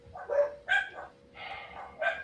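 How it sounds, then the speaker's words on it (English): Several dogs bark and yip in short bursts, four separate outbursts over a couple of seconds at moderate distance, with no talk in between. "Yeah, the dogs are freaking out."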